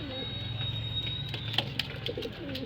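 Racing pigeons arriving at a home loft in Pagbilao, Quezon, with soft cooing and a few wing flaps and thumps over a steady low hum.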